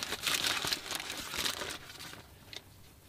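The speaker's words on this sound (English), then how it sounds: "I can unwrap it a bit." Crinkling paper wrapper of a KFC Zesty Twister being unwrapped, a dense, close rustle for about two seconds that then fades to a few light crackles.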